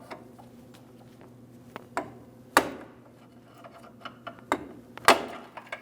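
A few sharp metallic taps from a hammer striking a pry bar on a clamp, working a steering rack bellows free on a 2003-2008 Toyota Matrix, spaced irregularly over a quiet mechanical hum, two or three noticeably louder than the rest.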